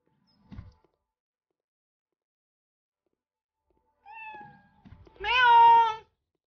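A cat in the Cafe Owner Simulator video game meows twice, first a short thin cry and then a longer, louder, clear meow right after it, with a soft thump heard earlier on.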